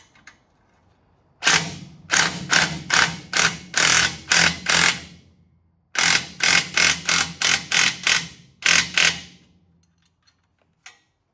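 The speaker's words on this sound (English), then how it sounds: "Let's see if that changes after I go to tighten the bolts on the bracket." Ratchet tightening bolts on a bracket of a 1978 Firebird, heard as two close, loud bursts of rapid clicking strokes, about seven or eight pulls each, separated by a short pause, with a lone click at the end.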